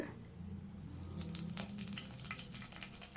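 Quiet, crackling sizzle of whole spices (cloves, cardamom, star anise, bay leaf) frying in oil, with faint pops and spatters scattered throughout.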